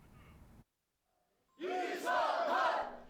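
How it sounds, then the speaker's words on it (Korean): Supporters of a newly elected district mayor in Seodaemun, Seoul, erupt in loud crowd cheering and shouting at an election victory, bursting in after a near-silent pause and holding strong to the end. "박수와 환호는 기본."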